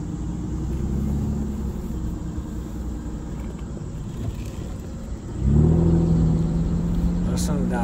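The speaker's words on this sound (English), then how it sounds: "Listen to that exhaust, it's so cool." Aston Martin DB9 exhaust with a steady low engine rumble that swells into a louder, deeper rev near the end, heard clearly with a voice talking over it.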